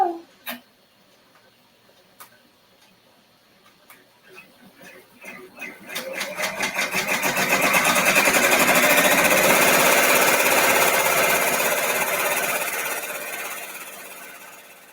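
Multi-needle embroidery machine stitching a small design on a stretchy glove: a few sparse mechanical clicks at first, then a steady, loud, rapid rattling hum that ramps up and holds through the stitch-out.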